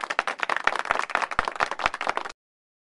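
An audience claps by itself for about two seconds, a quick, close, uneven patter of many hands that then stops abruptly.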